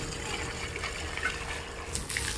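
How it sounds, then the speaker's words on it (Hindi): Water is poured steadily onto flower plants in a garden bed during irrigation, giving a continuous, fairly close splashing wash with no talk. "तो यहाँ पर हमारे पापा फूल में पानी डाल रहे हैं"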